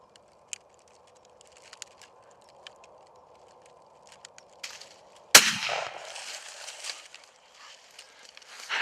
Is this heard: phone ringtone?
no